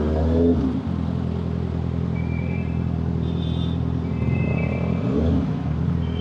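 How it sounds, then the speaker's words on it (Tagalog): Motorcycle engines rumble steadily at a motorcycle show, a dense low drone with faint higher whines and no clear individual revs, sustained throughout without talk. "Oh, ang daming motor."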